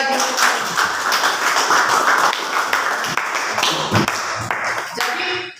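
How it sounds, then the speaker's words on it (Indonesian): A classroom group claps together during a school civics lesson, dense steady clapping sustained for several seconds and fairly close, tapering off near the end. "mari kita tepuk tangan sekali lagi"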